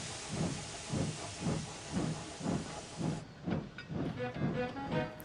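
The steam engine James puffs out rhythmic bursts of hissing steam, about nine evenly spaced chuffs, close and fairly quiet, the last few softer and more muffled.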